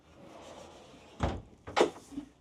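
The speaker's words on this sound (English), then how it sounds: "Shut the sliding door, and then this guy's just that little bit of privacy." A sliding door inside a 22-foot Crusader Lifechanger Pacific caravan is shut with two close thuds about half a second apart, then a faint rattle settles.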